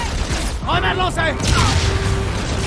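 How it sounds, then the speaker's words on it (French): A grenade is thrown and explodes in Call of Duty: Infinite Warfare, with a burst of booming and sharp mechanical crackles amid game effects. "Grenade lancée!"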